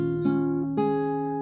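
Acoustic guitar plucking the sixth and second strings together, then another pair of plucked notes, with sustained ringing tones close up and no voice.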